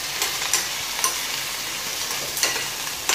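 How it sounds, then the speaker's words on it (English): Tomato sizzles steadily in a hot pan as it half cooks, with a continuous frying hiss broken by several brief spatula scrapes spaced irregularly throughout. "Fry a little"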